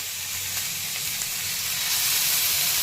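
Eggplant slices fry in oil on a griddle with a steady, bright sizzle that holds even and close throughout, with no voices.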